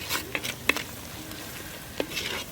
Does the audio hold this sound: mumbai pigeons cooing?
no